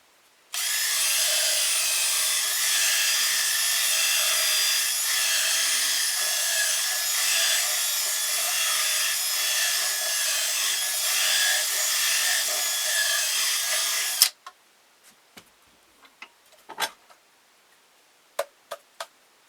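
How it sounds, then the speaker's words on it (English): A drill bores into a wooden ventriloquist dummy with a loud, steady high whine for about fourteen seconds, then stops, followed by scattered knocks and clicks of handling. "now we'll just use our drill bit here and we'll bore this out a little bit"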